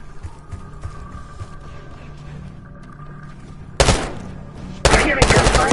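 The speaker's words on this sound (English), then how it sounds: "Hearing gunfire?" In the Call of Duty: Black Ops 6 campaign, two loud bursts of gunfire erupt, one short and one sustained and rapid, after a quiet stretch with faint background hum.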